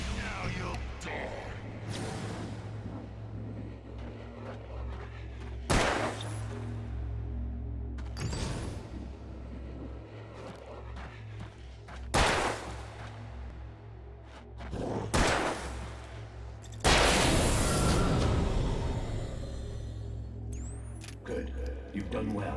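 Gunfire in Alan Wake Remastered: several separate sharp shots spaced a few seconds apart, one longer burst near the end, over a steady low drone and ambient game noise, with a voice speaking at times.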